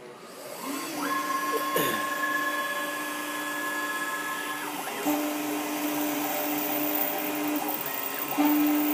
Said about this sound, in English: This is a diamond drag bit where we are spinning the dip to make a deeper engraving.